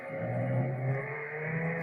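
Lamborghini in the Roblox game Jailbreak accelerating, a steady synthetic engine drone with a low rising pitch that holds loud and close for the whole two seconds, no voices over it.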